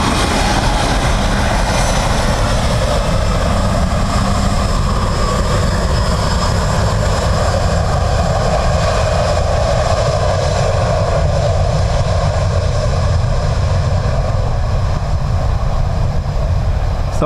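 Ryanair airliner arriving at Dublin Airport in a crosswind, a steady loud engine roar with a broad rumbling low end that holds for the whole stretch, close and continuous with no voices.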